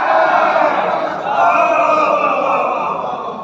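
A large crowd at a majlis chanting slogans for Ali in loud, sustained unison, a dense roar of many voices rising and holding for several seconds, close and filling the space.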